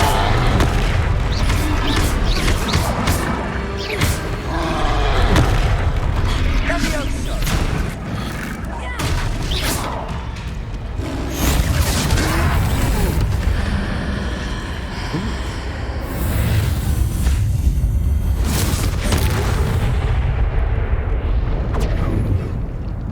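The Confringo explosion spell going off in a Harry Potter video game fight against a troll, with loud, dense booming blasts and rumbling impacts packed throughout, along with game voices and other battle noise.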